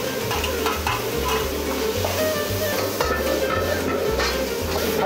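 All the ingredients, including meat seasoned with soy sauce and rice wine, stir-fried in a pan for a Chinese-style meat rice bowl: steady sizzling with repeated scraping and stirring strokes, close and loud, no talk.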